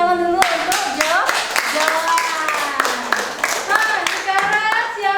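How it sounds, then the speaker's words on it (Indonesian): Students clap together for a classmate named Joan in a biology class, producing a brisk flurry of hand claps while young voices call out over them. "tepuk tangan dulu untuk Joan"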